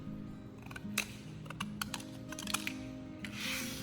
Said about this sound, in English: take an empty medicine blister pack and cut it lengthwise